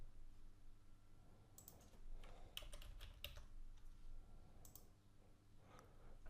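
A computer mouse and keyboard click during a website sign-up, producing a scattered run of sharp light clicks, some grouped in quick pairs, close and quiet over a faint low hum.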